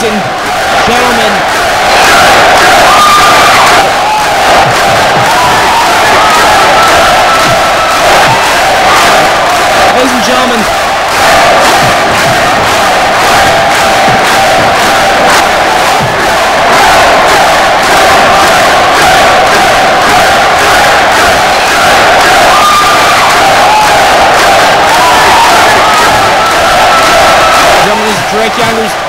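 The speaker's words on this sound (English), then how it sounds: "This crowd is just going nuts for the psycho shooter Drake Younger." A packed wrestling crowd roars and chants without letup at Drake Younger's farewell match, loud and dense with rhythmic clapping, and an announcer talks over the noise.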